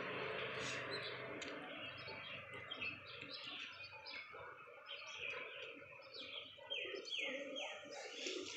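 Pigeons, including a white one, coo in a flock close by, with soft repeated coos mixed with bright chirping from other birds over a steady outdoor background.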